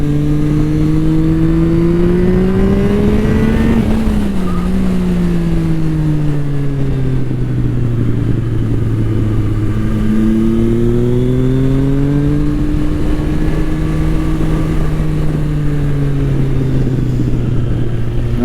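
Triumph Sport 660 motorcycle engine at speed on a race track, loud and close throughout, its pitch climbing and falling steadily as the rider shifts gears and revs through corners, with no talk over it.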